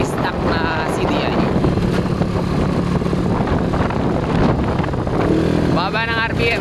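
A motorcycle with a stock CDI idles at low RPM, a steady close engine chug blurred by wind noise, with a voice speaking over it near the end.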